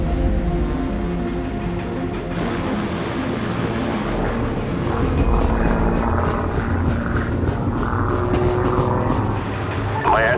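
Aircraft flying low to make a touch-and-go landing on a moving train: a loud, continuous engine and propeller drone, close and steady, mixed with rumbling train and wind noise throughout.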